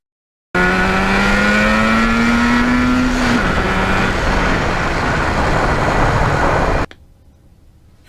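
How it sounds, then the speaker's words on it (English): A 1977 Yamaha RD400 two-stroke motorcycle revving hard through the gears, a loud close buzzing engine note climbing in pitch, dropping at a shift, then roaring on before cutting off abruptly. "when you're riding a two-stroke and going through the gears"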